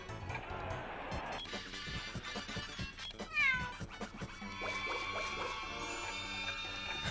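Short cat meow from a WarioWare microgame, set amid busy, loud game music and effects; one quick rising-falling mew stands out briefly in the middle.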